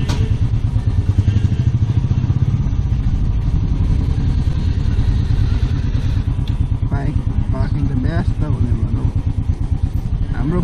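A Bullet motorcycle engine thumps steadily and loudly close by while the bike is handled and parked reversed at an evening event in Dharan, with clattering and voices over the rhythmic idle.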